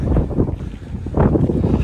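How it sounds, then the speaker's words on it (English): Strong wind buffets the microphone on a steep mountain trail up Roy's Peak in New Zealand, a continuous loud rumbling roar with a gust swelling partway through. "It is most definitely windy."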